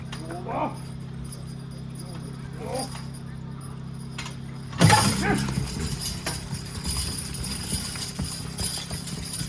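A team of draft horses at a lightweight horse pull drags a 10,000-pound load. Hoof thuds and jangling harness sound over a steady low hum, with a sharp burst midway and people talking nearby.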